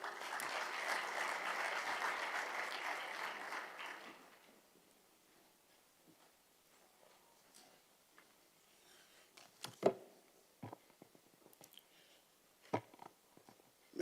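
Audience applause at an annual tax administration meeting, a full burst of clapping lasting about four seconds before cutting off to a quiet room with scattered faint clicks and small handling noises.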